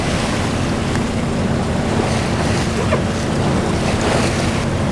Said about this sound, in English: Oh, just breaking waves.